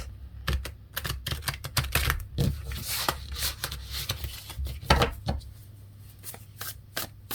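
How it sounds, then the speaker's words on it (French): A deck of tarot cards is shuffled by hand, close and continuous, a flurry of dry riffling clicks and soft flaps in quick irregular bursts over about seven seconds, with no talking. "je bats les cartes parce que comme je les ai pas battues entre la guidance 2 et 3"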